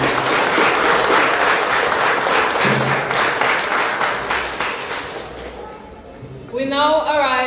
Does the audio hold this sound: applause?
yes